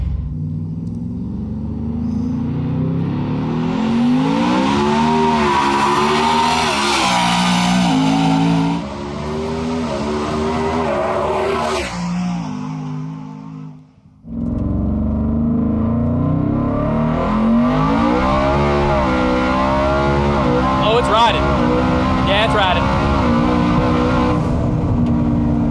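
A 1716-horsepower four-wheel-drive Ford F-150 with a boosted Coyote engine roars flat out in a 60 to 130 mph pull, loud and close with rising pitch, a brief dip for a gear change, then a second sustained high-revving surge.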